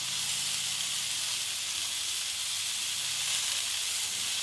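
Mustard seed paste sizzling hard in a hot pan for fish curry, a loud, dense, steady hiss that carries unbroken throughout.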